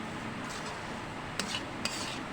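Semolina being stirred into a spiced mixture in a pan for spicy suji, a continuous dry scraping and rustle with two sharp spoon knocks against the pan near the end, no talk.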